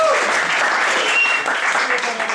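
An audience at a Python programming meetup claps for a presenter, sustained, fairly close applause that tapers slightly toward the end, with some voices mixed in.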